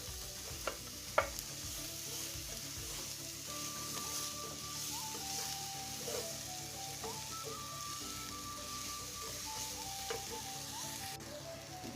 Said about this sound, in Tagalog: Gisahin muna natin ang sibuyas.